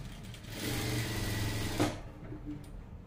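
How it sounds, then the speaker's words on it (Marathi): A sewing machine double-stitches the shoulder seam of a blouse, running close and steadily for almost two seconds with a fast mechanical rattle. It ends in a brief clack, and quieter handling follows. "मग मी इथे डबल शिलाई मारून घेणार आहे।"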